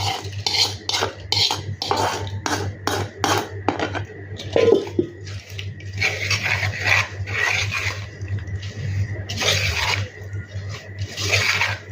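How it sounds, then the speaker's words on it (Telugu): A spoon scrapes and stirs through sesame powder mango pickle as tempering oil is mixed in, giving a steady run of close, rhythmic metallic scraping and clinking against the bowl with brief pauses, no voices. "తర్వాత మనం పోపు వేసుకున్న ఆయిల్ ఇందులో వేసేసుకొని కలుపుకోవాలి."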